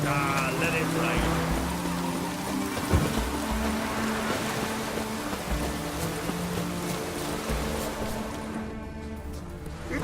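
Steady, dense rain hiss in The Witcher 3 video game fills the scene, with occasional low rumbles and background tones beneath it.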